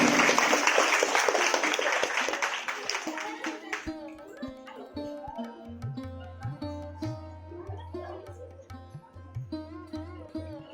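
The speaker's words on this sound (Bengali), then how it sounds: "জোরে হাততালি হয়ে যায়" Audience applause at a Teacher's Day prize ceremony, a dense burst of clapping that fades after a few seconds, leaving scattered claps, voices and music.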